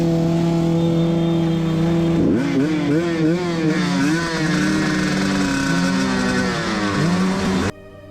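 A dirt bike engine revs and drones outdoors near a small runoff, its pitch rising and falling in wavering sweeps over a steady low hum, loud and continuous until it cuts off abruptly near the end.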